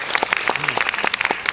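Audience applause at the closing of a classical music festival concert in Jakarta, a short burst of scattered clapping with a brief tonal note in the middle.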